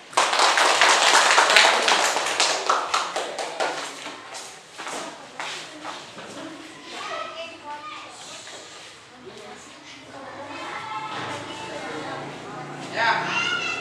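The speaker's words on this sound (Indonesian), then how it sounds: "kita beri aplaus dulu untuk kelompok C" Classroom applause for group C, a burst of many hands clapping loudly at first and then tapering off into scattered claps, with children's voices chattering over it.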